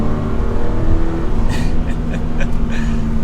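A 2023 Toyota GR86 with a manual gearbox accelerates on a mountain road, its engine droning steadily and loud from inside the cabin, with faint clicks and rattles partway through.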